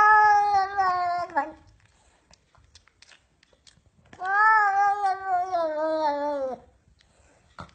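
A cat lets out two long, drawn-out wailing meows close by, separated by a quiet pause with faint rustling.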